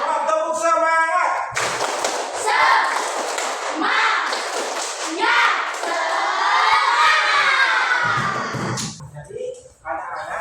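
A class of children performs a rhythmic clapping cheer together, their lively chanting voices and claps loud and close, with an adult voice speaking near the start and a brief muffled thump near the end.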